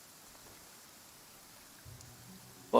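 Rain falls steadily in Genshin Impact as a soft, even hiss, fairly faint, before a short low rumble and a sudden louder burst at the very end.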